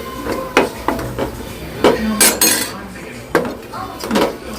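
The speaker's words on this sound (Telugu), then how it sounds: "ఒక 2 స్పూన్స్ వేసి దీన్ని కలుపుకోవాలి." A utensil scraping and clinking against a pan while flour is stirred into melted butter for white sauce pasta, heard close as irregular sharp knocks and scrapes over a low background hum.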